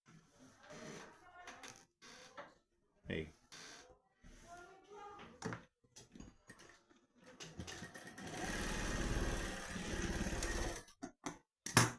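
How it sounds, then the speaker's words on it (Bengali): Sewing machine stitching a trouser pocket, with soft handling noises and short intermittent bursts that build to a steady, rapid mechanical whirr of several seconds, close by and fairly quiet, with some talk between bursts. "এই সেলাই করে নিলাম।"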